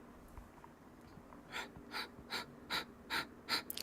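Six quick, forceful nasal exhales in yoga breath-of-fire style, evenly spaced and growing slightly louder, each a short breathy puff close to the mic. A faint low hum runs underneath.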